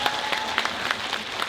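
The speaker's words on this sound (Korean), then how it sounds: "박수를 한번 좀 쳐주시면 좋을 것 같아요." An audience at a political talk concert in Gwangju gives a brief round of steady applause, dense and evenly sustained, with no talking over it.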